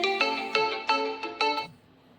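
A phone ringtone goes off at an amplifier board repair bench, playing a bright melodic pattern of four repeated chiming bursts, loud and close, then stopping.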